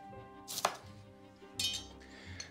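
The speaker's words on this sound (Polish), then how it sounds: "Pokroję w grubą kostkę." An onion being cut into thick cubes with a knife on a board, two crisp close chopping strikes about a second apart, each followed by a quieter scrape, with low kitchen background and no talking.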